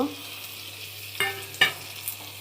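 Chicken kosha frying in a pan with onion and spices as tomato goes in: a steady, fairly quiet sizzle broken by two brief, sharper clatters of stirring.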